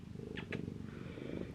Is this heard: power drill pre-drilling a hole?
no